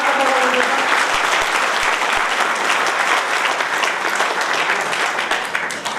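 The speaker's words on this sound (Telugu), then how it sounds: "ఒకసారి గట్టిగా చప్పట్లు కొట్టండి." A loud, continuous round of clapping from an audience at a National Pensioners' Day gathering of a retired persons' association, dense and sustained throughout before easing slightly at the end.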